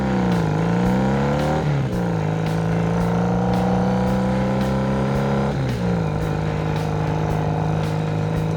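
A 1980 Honda CB 400 N motorcycle built as a scrambler rides through town with a steady engine drone throughout. Two rising rev-and-shift sweeps are followed by settling tones, with wind noise throughout.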